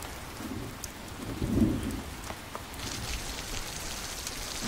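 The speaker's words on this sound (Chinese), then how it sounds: "突然下这么大的雨" Sudden heavy rain falls in a steady hiss with low rumbles underneath, the downpour swelling louder partway through.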